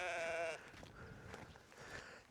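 A sheep on an outdoor walk near a waterfall gives a short, nasal bleat at close range, followed by quiet outdoor background.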